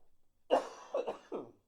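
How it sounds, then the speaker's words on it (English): A few harsh coughs close up, three or four bursts in quick succession after a brief quiet moment. "this cough is really kicking my butt."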